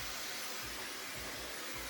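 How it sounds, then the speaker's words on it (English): A Dyson hair dryer blows steadily at close range in a salon, a loud, even rushing hiss of air with low fluttering pulses underneath, running continuously without pause. "is that the Dyson hair dryer yet? Yes, it is."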